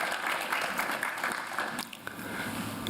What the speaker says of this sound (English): Maybe we can give a big round of applause for them.